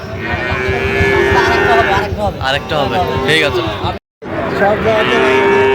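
Sahiwal bulls moo loudly and repeatedly at a cattle market, long low calls overlapping amid a noisy crowd, with people talking nearby and a brief cut of silence.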